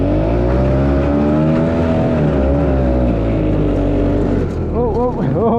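Engine of a restored vintage 1965 Gnat Mk1 ATV runs loud and steady close by, its pitch rising and falling slightly while driving, with a brief shifting whine near the end.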